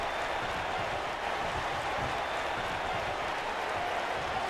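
A steady wash of crowd noise, cheering and applause in a wrestling arena in the WWE 2K19 video game during an NXT match, constant and fairly loud throughout with no distinct individual voices.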